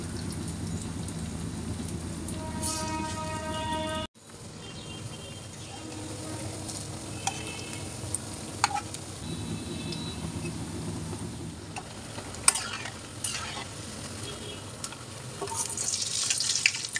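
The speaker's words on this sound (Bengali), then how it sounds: "তো সবার প্রথমে আমি পেঁয়াজুগুলোই ভেজে নেব" Onion fritters (piyaju) fry in oil over a low flame for a village-style snack, a continuous close sizzle with occasional clinks and scraping of a stirring utensil, no voices.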